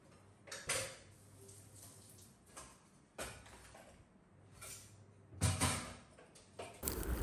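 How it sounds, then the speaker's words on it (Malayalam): Dishes being picked up and set down in a kitchen sink after breakfast: scattered clinks and clatters of plates and utensils at irregular intervals, close but quiet, with no voices. "കഴുകാനുള്ള പാത്രങ്ങളെല്ലാം ഞാനെടുത്ത് സിങ്കിലേക്ക് എടുത്ത് വെച്ചിട്ടുണ്ട്"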